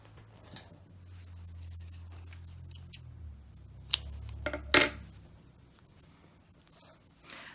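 Scissors snip crochet yarn after a slip stitch: a quiet rustle of handling, then two sharp close cuts in quick succession, with a faint tap near the end.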